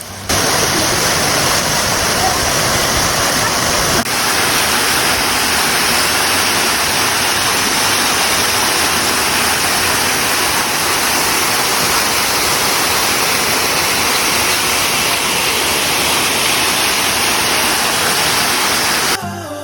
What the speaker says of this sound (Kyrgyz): Анан үстүнөн дагы мен шаркыратманы тарттым.